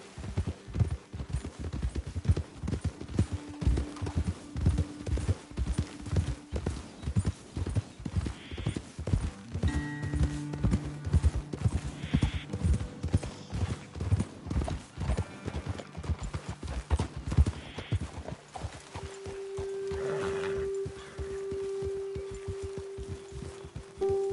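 Hooves clip-clop in a steady rapid rhythm for most of the stretch, then slow and stop; a horse snorts and a brief whinny appears near the end, from the video game Red Dead Redemption 2.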